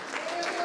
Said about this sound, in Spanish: Aplaude ahora si quieres.